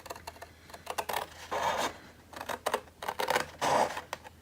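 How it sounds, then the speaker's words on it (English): Scissors cut through paper from the outer edge toward the centre, stopping short of it, while making a Spring Farmhouse papercraft piece. The crisp snips and rasping slices come in close, irregular bursts with brief pauses between them. "you're going to cut along from the outside to the center and not past it"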